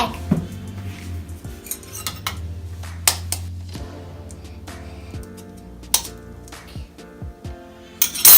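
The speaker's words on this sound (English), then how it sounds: "Let's crack the egg." Kitchen clatter while making Valentine's Day sugar cookies: an egg cracked into a bowl with vanilla, heard as a few sharp taps and clinks of shell against the bowl rim among scattered dish and utensil clatter, close by.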